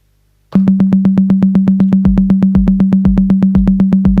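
A Korg EMX-1 drum machine plays a steady pattern of rapid, evenly spaced sixteenth-note hits at one fixed pitch without modulation, loud and dry with no other sounds.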